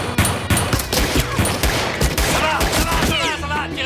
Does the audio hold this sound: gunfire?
yes